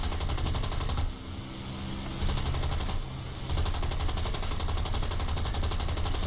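Hurricane aircraft machine guns in a flight combat video game, rapid loud bursts of rattling fire in three long strings separated by two brief pauses.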